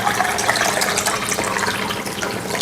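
Water pours steadily into masala inside a Robocook electric pressure cooker while a mutton biryani is made, producing a loud, continuous splashing rush that lasts throughout, with no talking.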